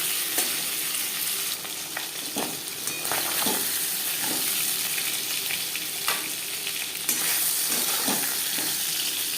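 Pangas fish frying in hot refined oil gives a constant bright sizzle, punctuated by periodic utensil taps and scrapes as pieces are moved and turned, close and loud with no voices.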